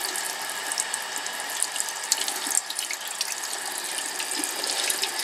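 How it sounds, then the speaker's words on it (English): A tap runs steadily while a paintbrush is rinsed under it, water splashing into a sink close by with a constant hiss and occasional soft clinks. "run under the water again"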